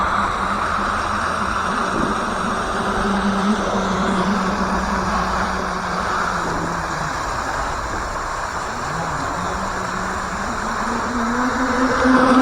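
A Thunder Tiger OBS Jr radio-controlled boat runs at half throttle, its small motor giving a steady, continuous buzzing whine with slight pitch shifts, heard at moderate distance with no voices.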